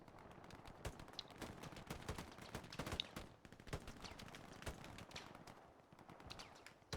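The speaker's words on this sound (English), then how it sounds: "Strafing run coming through and getting one." Strafing-run gunfire in Hell Let Loose, dense rapid bursts of distant shots rattling over several seconds at a moderate level.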